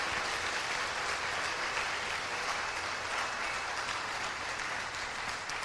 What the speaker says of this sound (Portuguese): Se você concorda comigo, dá uma salva de palmas.